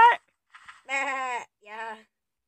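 Three bleats from a sheep in a video game: a short cry, then a faint one and two longer wavering bleats. Each is clear and close, with silence between them.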